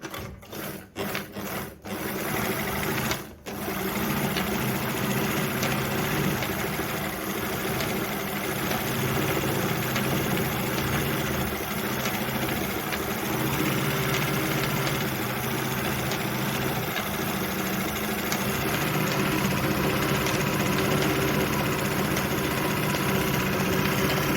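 A Jones model 461 sewing machine stitches decorative design number 10: a few sharp clicks at the start, then a loud, steady mechanical whir that runs on without a break.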